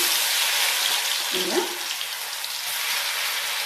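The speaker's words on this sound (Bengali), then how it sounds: "এতিয়া মই অকণমান এনেকৈ লেটিয়াই লেটিয়াই বেঙেনাকেইটা ভাজি ল'ম দেখিছে নহয় তেল গৰম হৈছে এটা এটাকৈ দি যাম" Batter-coated brinjal slices fry in hot oil, a dense, even, close sizzle throughout, with a faint brief knock partway through.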